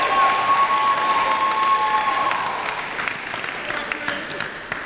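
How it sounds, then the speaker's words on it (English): A pageant audience claps steadily in a hall, sustained applause with a faint tone humming underneath early on, gradually tapering toward the end. "Let's give Quinn Desmond another round of applause."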